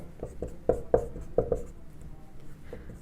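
Chalk or marker writes on a board during a maths class, making short scratchy strokes in a quick irregular cluster before falling quiet, heard close with no speech.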